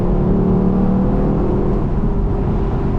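Lexus LC500 high-revving engine pulling hard under acceleration, a loud, sustained deep growl with rising tones, heard from close by and with no voices over it.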